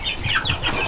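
Bantam rooster clucking while perched, a short run of close, fairly loud clucks and soft throaty calls filling the moment with no talk over it.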